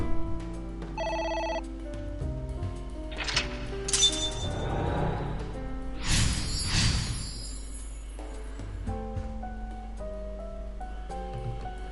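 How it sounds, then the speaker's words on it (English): A phone rings in the video game AI: The Somnium Files, a tonal electronic ring repeating over soft game music and ambient swells, moderately loud and without talk. "The light has turned on. A phone. Should I pick it up?"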